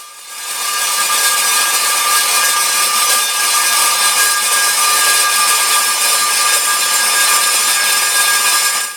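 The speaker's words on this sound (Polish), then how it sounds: "za chwilę zobaczycie jak tnę z tego takie blaszki na również zastrzały" An Evolution R210SMS 210 mm TCT multi-purpose mitre saw cuts steel strip, giving a steady, loud, high-pitched grinding whine that holds without a break for the whole cut and stops abruptly at the end.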